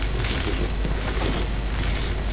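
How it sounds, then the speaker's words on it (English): A Spookysquash explodes in the video game Astroneer as a dense, loud burst of broadband noise with repeated thumps, concussive and sustained throughout, with no clear pause. "these exploding Spookysquashes actually do appear to have some, the explosion actually has some concussive force."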